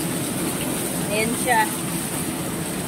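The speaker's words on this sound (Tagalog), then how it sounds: "Ang grabing lakas ng ulan." Very heavy rain pours down in a steady, dense roar close by, with a voice talking over it throughout.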